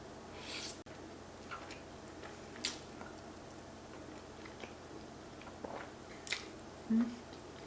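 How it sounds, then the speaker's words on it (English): Crunchy toasted pecans bitten and chewed close up during a mukbang meal of brown butter pumpkin mafaldine alfredo, a few soft, scattered crunches over a quiet background. "The toasted pecans, that really delicate crunch that you get from them."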